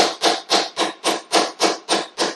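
An old hammer taps a steel adjuster shoe clamped to a retainer during final assembly, giving nine quick even metallic knocks in a steady rhythm, close and fairly loud with no talking.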